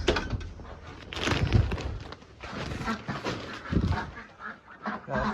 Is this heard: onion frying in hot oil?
no